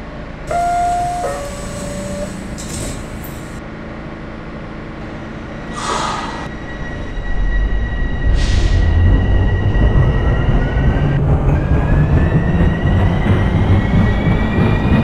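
Commuter train in the OpenBVE simulator running between stations, with chimes and tones first, then a growing rumble and steady rolling roar as it picks up speed, wheels squealing faintly, no talk.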